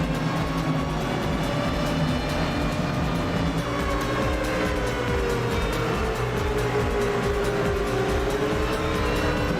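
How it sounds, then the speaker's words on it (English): NASCAR Cup Series pace car at Watkins Glen pulling away, a steady loud engine drone with shifting pitch and a racetrack wash of engine noise throughout, no voices. "Pace car down and away."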